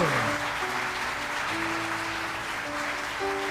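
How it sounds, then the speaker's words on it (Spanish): A church congregation applauds during an Easter Sunday resurrection service, a continuous wash of clapping with sustained tones underneath, steady and fairly loud. "Aplauda al Rey"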